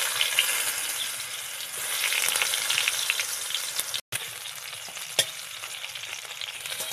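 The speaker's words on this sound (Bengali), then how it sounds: "এগুলো ভেজে নেব।" Pointed gourd (potol) pieces, coated with a little salt and turmeric, fry in hot oil with a steady loud sizzle, broken only by a brief stir.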